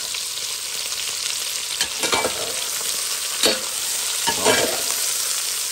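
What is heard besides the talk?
onions frying in a pan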